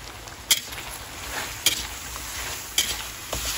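Bamboo shoots (labong) go into a pot and cook with a soft, steady sizzle and stirring. A few sharp clinks of a utensil against the pot land at irregular moments, and no one talks.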